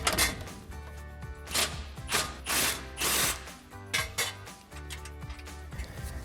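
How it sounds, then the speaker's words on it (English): A ratchet fitted with a 16mm socket turns a bolt on a Jeep Gladiator, giving close, crisp clicking bursts in repeated strokes with short pauses between them, no talk. "So once again, we'll grab that 16mm socket for the bolt."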